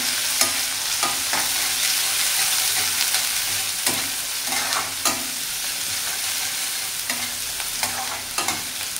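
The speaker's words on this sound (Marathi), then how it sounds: "1 मोठा कांदा घेतलेला आहे, एकदम बारीक चॉप केलेला आहे त्याला। तो पण छान असं परतून घेऊया आपण" Chopped onion sizzles steadily in a hot pan, with repeated scraping strokes of a spatula stirring it.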